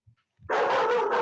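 A dog gives a sustained, loud bark or yelp close by, kicking in after a brief soft sound and holding steady to the end, with no talking over it.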